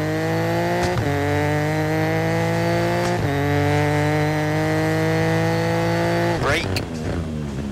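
A rally car engine in EA Sports WRC revs hard and loud while accelerating on snow, climbing in pitch and dropping briefly at each of three gear shifts.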